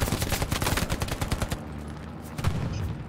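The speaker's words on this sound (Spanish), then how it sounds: "ya me están tiroteando hasta por detrás" Rapid gunfire bursts from a Stalingrad battle in the World War II shooter Hell Let Loose, dense and loud for the first half, then quieter distant shots with another close volley near the end.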